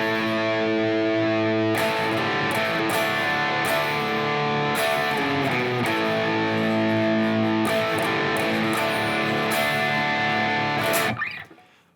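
A distorted electric guitar plays the riff of a song, ringing out long, sustained chords in a repeating pattern, loud and thick, ending with a sudden cutoff and a short noisy release.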